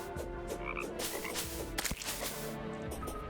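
Frogs croak in the video game Terraria, repeated short croaks mixed with sharp game hits and crackling effects. No one speaks.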